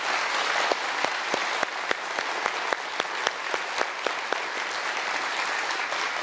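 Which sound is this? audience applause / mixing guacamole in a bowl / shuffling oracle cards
audience applause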